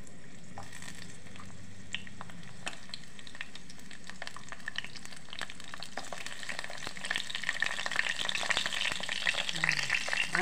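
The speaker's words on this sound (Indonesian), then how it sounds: "Nah, ini kita goreng ikan asinnya dulu ya guys." Salted fish frying in a pan gives a close, steady sizzle and crackle with scattered pops, growing louder and busier toward the end.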